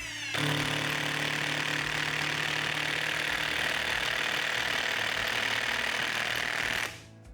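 A Procraft Industrial cordless impact driver runs at second speed, hammering a 95 mm long, 6 mm lag screw into wood with a loud, steady buzzing rattle that lasts about seven seconds before stopping abruptly.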